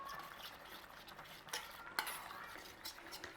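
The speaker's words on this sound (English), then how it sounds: "Put it in with our corn flour and give it a little mix up" Cornflour being mixed into a little chicken stew juice, quiet soft stirring with a few light utensil taps against the container, faint and close, no talking.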